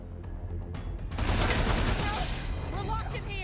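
Bursts of gunfire aimed at a turret in the video game Wasteland 3, a loud, dense volley building from scattered shots into sustained firing with mechanical clatter, under occasional speech.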